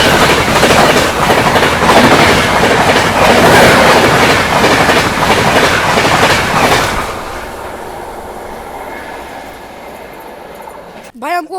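ADI-BVI Express train running loud and steady on the track for about seven seconds, dense clickety-clack of wheels over rail joints, then dropping to a quieter interior rumble with a brief burst near the end.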